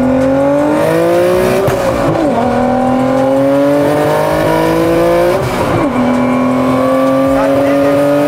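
A turbocharged BMW E30 accelerates hard through the gears, its engine note climbing loud and close, dropping at each shift near two and six seconds and then rising again, with tire noise mixed in.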